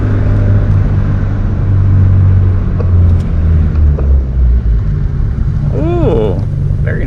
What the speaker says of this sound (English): We're coming up to a stop right here.